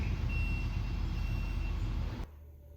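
A big tree cutter truck backs up at a tree-cutting job, its reversing alarm beeping steadily over a loud idling engine rumble before the sound suddenly drops away near the end.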